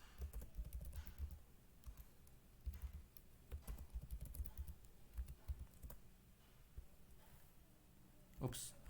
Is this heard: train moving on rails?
no